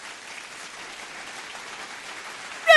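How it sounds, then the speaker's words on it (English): Applause for prize winners being announced, a steady wash of clapping from an audience, moderately loud and continuous, ending in a sharp louder burst. "Round of applause"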